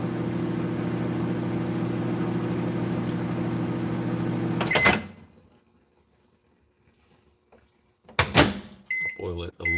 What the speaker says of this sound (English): We'll make sure this tea I'm making doesn't boil over, spill onto the microwave plate.